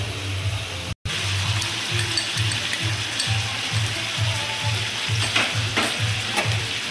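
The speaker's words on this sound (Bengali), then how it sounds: "এবার আমি ভালো করে নাড়াচাড়া করব।" Chicken curry masala with ginger, garlic and green chili paste sizzling loudly in a pan while being stirred, with steady rhythmic scraping strokes about twice a second over continuous frying hiss; a brief dropout near the start.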